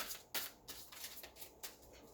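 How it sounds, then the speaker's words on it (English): Tarot cards are shuffled in quick, soft riffling bursts, several in a row, close and quiet. "let me just keep shuffling."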